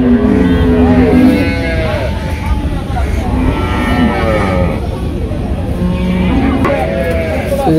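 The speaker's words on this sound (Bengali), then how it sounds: "বাছুর দুটো সুন্দর আছে" Two young calves moo repeatedly on a village farm, loud and close, their calls rising over a voice as people talk around them.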